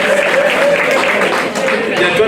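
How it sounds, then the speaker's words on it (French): An audience at an anniversary celebration claps for the president, dense steady applause filling the room, with a voice talking faintly underneath. "On peut même l'applaudir encore une fois"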